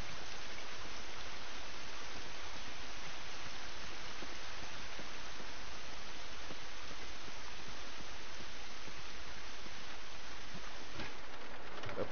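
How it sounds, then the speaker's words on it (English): Steady rain in The Last of Us, a dense even hiss of falling drops and pattering on surfaces that continues unbroken at moderate volume with no voices. "This rain ain't gonna do us any good."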